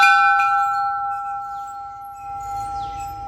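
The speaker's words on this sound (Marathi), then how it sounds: "हे घंटा वाजवून त्याचा आवाज 2 सेकंद आपण आरामात ऐकायचं" A temple bell at Pinakeshwar Mahadev temple near Jategaon, Nandgaon, is struck once and rings clear and bright. Its sustained metallic tone slowly fades across several seconds with no talking.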